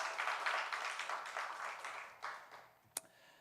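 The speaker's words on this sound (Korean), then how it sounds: "우리 하나님께 영광의 박수 올려드리겠습니다." A church congregation applauds during a Sunday service, a soft steady patter of many hands clapping that fades out, ending with one sharp isolated clap and quiet.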